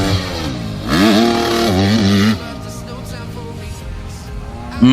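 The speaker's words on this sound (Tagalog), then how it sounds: "nakita natin ang practice ni Zaira Paco sa kanyang CRF Honda 250cc" A Honda CRF 250cc motorcycle engine revs loudly up and down for about a second and a half, then drops to a lower rumble under voices and crowd chatter, with a brief burst of revving at the very end.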